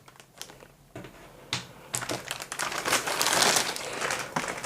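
Anti-slip adhesive tape being peeled off its backing for a keyboard's underside, a close crinkly tearing and rustling that starts with a few faint clicks and builds into a louder, continuous rasp.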